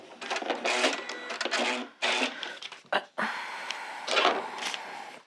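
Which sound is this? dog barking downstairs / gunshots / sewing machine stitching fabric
sewing machine stitching fabric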